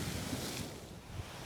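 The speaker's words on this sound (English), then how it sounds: "You can see some good waves crashing through here." Ocean waves crash and wash through a gap between two small coral islands off a beach at Cayo Santa Maria, a steady broadband roar of surf with wind buffeting the microphone and a brief surge near the end.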